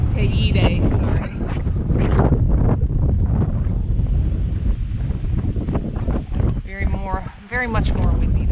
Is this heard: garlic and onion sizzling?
no